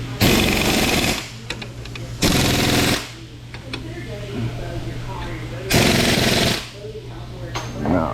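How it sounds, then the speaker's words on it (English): A ratchet clicks while an SS 815 air starter held in a vise is assembled. Three loud, rapid mechanical rattling bursts come close by, with quieter workshop clatter in between. "now you hear our ratchet"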